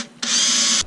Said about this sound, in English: seen this fella drilling holes in the back of my boat